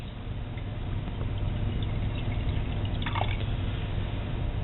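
Six molar hydrochloric acid poured into an unmarked, ungraduated container in a gas law lab setting, a quiet, steady trickle and dribble of liquid with a few brief splashes around the middle, no talk.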